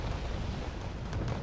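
Bombs from a MiG-17 exploding in the Wargame Red Dragon strategy game, a short, dense, booming rumble that fills the moment loudly with no break.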